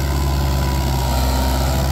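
Mahindra 575 XP Plus tractor engine running steadily at idle, a loud, continuous low diesel rumble with a constant hum and no break.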